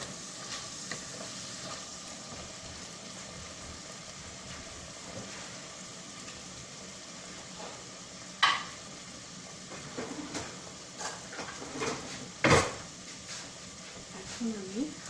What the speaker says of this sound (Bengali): সয়া সসটা দিয়ে একটু নাড়লাম।